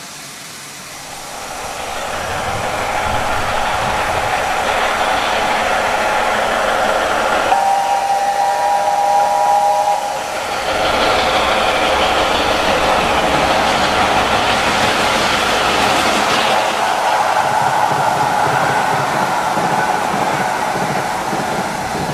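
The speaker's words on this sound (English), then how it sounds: "the engine burst into view, hauling a long line of coal wagons" A steam locomotive hauling a long line of coal wagons builds from quiet into a loud, sustained roar and rumble as it passes at speed, with a brief whistle-like tone in the middle.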